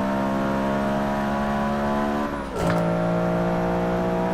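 A Honda B16 VTEC engine in a car racing at Watkins Glen in the Forza 6 video game, revving steadily with a brief dip near the middle before the pitch climbs again, loud and continuous with no talk.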